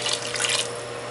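Water poured from a tap into a cooking pot for lentil soup, a short steady splashing gush, close and fairly loud with no talking.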